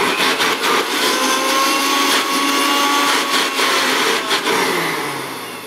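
A vintage 1977 Hoover Dustette 2614C hand-held vacuum cleaner runs close by with a steady, loud whine and airy rush, its pitch shifting slightly before the motor begins to wind down at the end.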